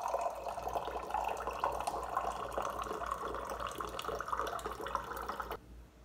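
Water runs in a steady stream into a small drinking glass, the flow holding for several seconds before cutting off. It is fairly quiet and comes with no talk.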